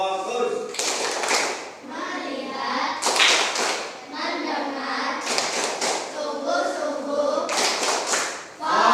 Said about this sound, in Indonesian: kita awali dengan tepuk fokus